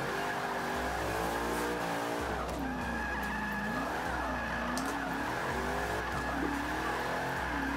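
A Shelby Cobra 427 drifting in Forza 5 roars continuously with its engine rising and falling through revs, while tires squeal and skid throughout the slide, loud and sustained with no talking.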